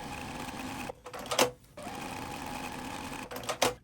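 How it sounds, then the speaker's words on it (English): A sewing machine runs in fast bursts while stitching quilt seams, its rapid mechanical whir broken by short pauses and clicks as the fabric is adjusted between runs, heard close up. "Now I'm going to sew these sides."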